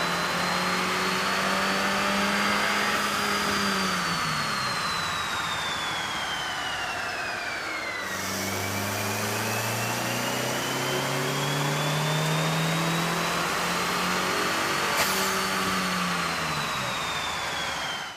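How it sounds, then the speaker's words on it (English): A car engine fitted with a K&N cold air intake (69-4521TS) runs on a dyno, droning steadily as it climbs through the revs, with pitch rising, dropping back and rising again; the engine is close and constant, and no one talks. "With the air intake installed, we ran the vehicle on the dyno to test the sound comparison versus the stock intake."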